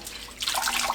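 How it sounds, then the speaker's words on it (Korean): Hijiki seaweed is kneaded by hand in salted water, starting with quiet trickling and then turning into a burst of close sloshing and splashing. "톳 넣고 주무르면서 씻어주세요."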